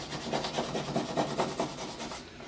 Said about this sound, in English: Just kind of burnish it on so that it sticks